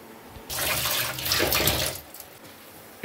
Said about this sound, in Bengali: এখন এই গোলাপের পাপড়ি আর তুলসী পাতাটা জলে ধুয়ে